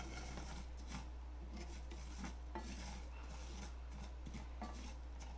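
Rice being stirred and toasted in a pan, a steady scraping and rubbing of utensil against the pan surface with small clinks, continuous and close with no talking.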